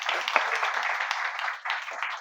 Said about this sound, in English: So, round of applause for Amish Prabhu.